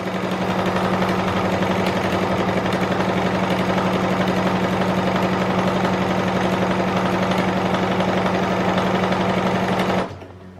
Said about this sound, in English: I'm very fortunate in that my machine has an automatic function. And it will now sew the buttonhole automatically.